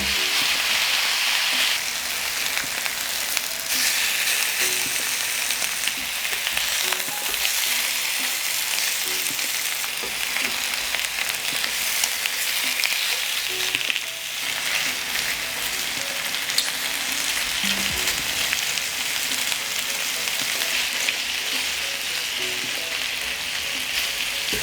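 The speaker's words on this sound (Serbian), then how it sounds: "Pržite dok ne porumeni sa obe strane." Pork meat frying in a dry, unoiled pan, giving a loud, steady crackling sizzle that runs continuously with no talk over it.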